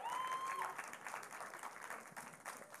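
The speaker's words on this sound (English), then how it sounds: "I need you to clap, please." A church congregation applauds its senior pastor, continuous massed clapping from many people, steady and moderately loud before easing slightly.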